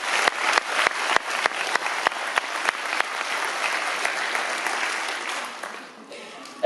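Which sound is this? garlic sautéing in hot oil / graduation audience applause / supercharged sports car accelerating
graduation audience applause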